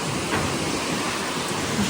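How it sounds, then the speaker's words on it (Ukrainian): Rain pours down steadily in a dense, even hiss of falling drops, fairly loud and continuous, with no voices heard. "Як добре, коли йде дощик."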